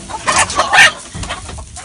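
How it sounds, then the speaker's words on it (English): Chickens cluck and murmur on their roost at the end of the day, a few close, uneven bursts of clucking over a quiet background. "here the chickens are after a full day, lining up on their roost"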